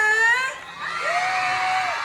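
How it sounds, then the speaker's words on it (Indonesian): A crowd cheers and whoops with shrill shouts and children's yells, a broad wash of voices filling the space. "Oke, berikan tepuk tangan dari yang meriah."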